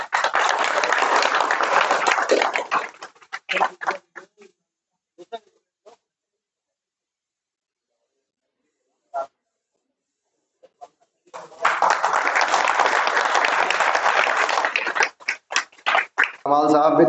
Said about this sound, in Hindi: और सभी लोग तालियों के साथ स्वागत करें।